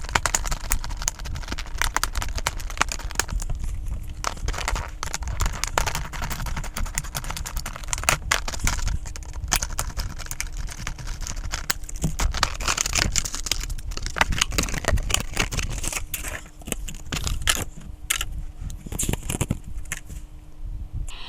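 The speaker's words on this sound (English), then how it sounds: "Let's go ahead and get this thing opened up right about now." A Bachmann Sodor salt wagon model train package is opened with scissors, giving a busy run of irregular snips, clicks and plastic and cardboard crinkling close to the microphone, with no talking.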